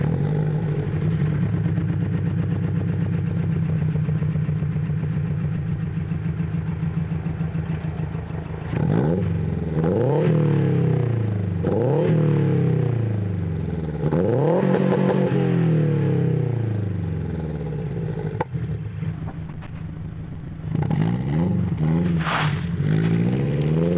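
A 2016 Scion FR-S with a GReddy exhaust idles with a steady throaty drone, then revs repeatedly in sharp rising and falling sweeps, loud and close, before settling back toward idle with a final blip.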